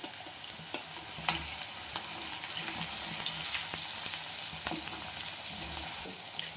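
Fenugreek curry ingredients with ginger paste and a little turmeric mixed in a pan, a soft sizzle of frying with scattered scraping and tapping of a spoon, fairly quiet.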